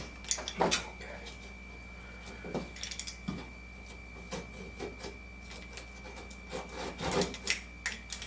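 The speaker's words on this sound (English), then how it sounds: "let me grab my utility knife and let's square this off" A utility knife scores and cuts drywall to square off the edges of a hole, giving scratchy scraping strokes in uneven bursts, fairly quiet and close, with a steady faint hum behind.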